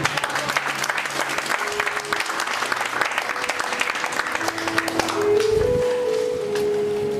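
A church congregation breaks into sustained, close applause filling the room, with some voices and a few sustained tones rising toward the end.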